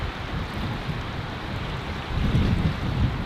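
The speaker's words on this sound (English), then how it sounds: "Dude, this wind is... Can you hear it?" Strong wind roaring through jade trees in Queenstown Gardens after overnight snow, a continuous gusty rush that swells louder in the last second, with no talking.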